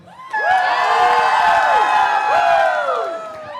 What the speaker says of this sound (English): Now I want screams and just yelling.